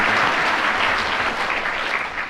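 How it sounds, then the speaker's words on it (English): A studio audience at a panel game bursts into warm applause, a dense wash of clapping that stays loud and even for a couple of seconds before easing slightly at the end. "Give her a round of applause for honesty"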